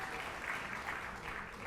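At a school athletic awards ceremony, an audience gives a middle school athlete a round of applause: a faint, steady, distant rush of many hands clapping without a break.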